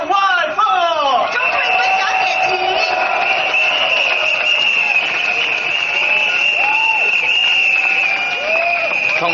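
Audience at an SDP election rally for the Holland-Bukit Timah GRC, applauding and cheering steadily to welcome candidate Chong Wai Fong, with a continuous roar of clapping and crowd noise under an amplified voice.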